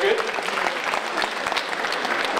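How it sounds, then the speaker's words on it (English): Applause from a classroom or lecture audience, dense steady clapping at moderate level throughout, with some voices mixed in. "big applause to him"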